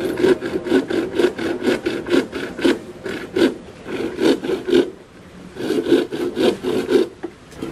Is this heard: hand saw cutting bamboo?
yes